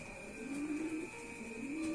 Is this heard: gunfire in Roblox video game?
no